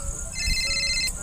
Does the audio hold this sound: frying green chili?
no